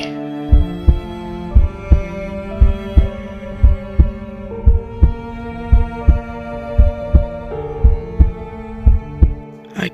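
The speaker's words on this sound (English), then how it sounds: "I could have sworn I heard his heart beating" Heartbeat sound effect within a one-man vocal play of The Tell-Tale Heart, a steady, loud, booming double-thump pulse repeating about once a second over a sustained droning musical tone.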